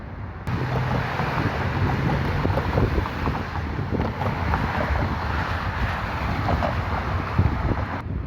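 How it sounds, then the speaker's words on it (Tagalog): Strong wind buffets the microphone in a constant low roar under overcast skies at Holland Marsh while fishing, running through the whole stretch, with no voices. "Makulimlim at saka mahangin kasi."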